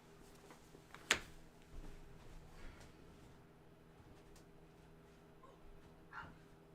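A dog barks once sharply in the distance, followed by a few faint softer yips and whimpers over quiet room hum.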